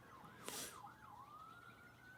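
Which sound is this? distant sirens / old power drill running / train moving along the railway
distant sirens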